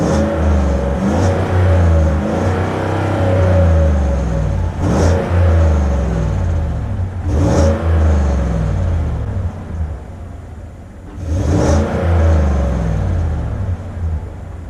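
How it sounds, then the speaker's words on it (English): A Chevrolet Silverado pickup fitted with a big muffler and resonator idles in a steady, muffled low rumble, with short revs rising at a few points. "You can't expect it to be too loud. I mean, it has a big muffler and a resonator on it."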